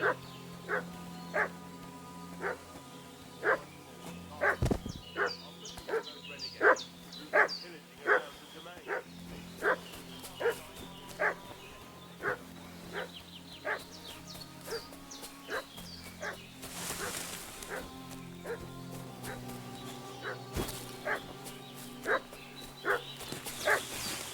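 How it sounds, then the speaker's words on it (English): A dog in the medieval role-playing game Kingdom Come: Deliverance II barks repeatedly in a steady rhythm, moderately near, over quiet ambient game music and background sounds. "What's that dog making such a fuss about?"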